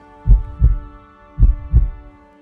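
A fast heartbeat sound effect plays in a narrated Hindi fairy tale: two deep, close lub-dub pairs of thumps over a steady low hum.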